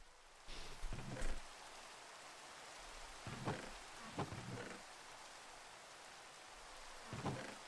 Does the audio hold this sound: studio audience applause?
no